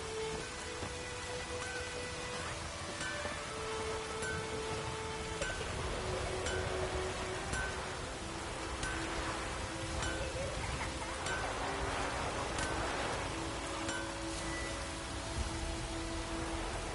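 Rain falls steadily in the video game The Witcher 3, a continuous hissing patter with faint sustained tones underneath and no speech.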